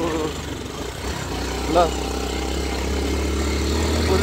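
An old, worn-out motorcycle idles on a hill road, a low steady rumbling hum that holds throughout, with a brief voice briefly heard over it.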